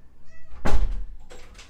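A person imitates a cat meowing at a door, giving one loud, close, drawn-out meow followed by a shorter second cry, with no talking.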